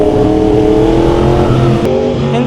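A Yamaha R1 WGP motorcycle with a remapped ECU revs loud and close, its engine holding a sustained, harmonic roar with a brief dip near the end.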